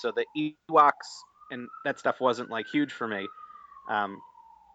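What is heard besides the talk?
police siren passing outside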